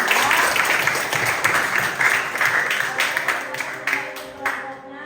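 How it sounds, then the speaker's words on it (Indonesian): A high-school class in a classroom claps for a student group, with steady, dense applause close by that gradually fades toward the end. "berikan tepuk tangan"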